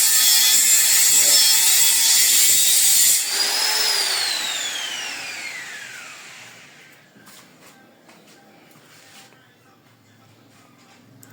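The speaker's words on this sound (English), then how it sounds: "I'm going to cut out this thing to it." Wood trim being cut with a saw during a modern kitchen upgrade, a loud, steady rasping burst for about three seconds that continues more faintly and tails off into quiet room noise.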